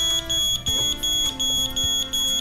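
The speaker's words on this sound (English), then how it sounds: "If someone opens the door, the WAlert will sound an alarm to deter the intruder." A WAlert IoT home security device sounds its intrusion alarm, a loud, piercing electronic beep pulsing in a regular rhythm of roughly two bursts per second, close and alone.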